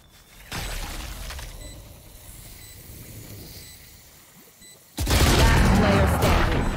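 Valorant gunfire in a tournament semi-final or final: a dense burst of shots, then a quieter stretch, then a loud sustained barrage of rapid firing.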